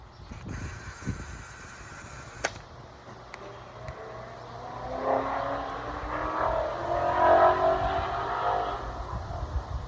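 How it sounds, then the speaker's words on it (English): A car engine revs up in the distance during a home run derby, its pitch rising and falling over a steady rumble of background noise and traffic. "somebody revving it"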